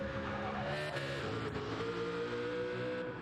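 A race car engine in a sim racing video game drones with a steady, buzzing tone and small shifts in pitch, fairly close and alone, with no one talking.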